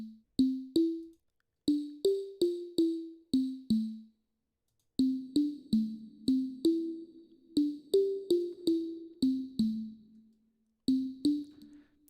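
A convolution reverb modelled on a small control room, applied to a bouncy melodic pattern of short plucked synth notes. The notes come in quick groups separated by brief gaps, with only a tight, short decay after each hit.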